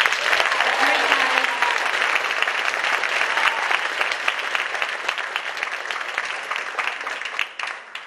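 Audience applause at an instrumental world music concert, a dense wash of clapping that holds steady and then thins out toward the end.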